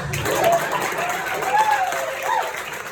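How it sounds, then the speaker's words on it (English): An audience at a stand-up comedy show applauds, a continuous wash of clapping that swells and fades slightly, with a voice audible through it. "You can clap now."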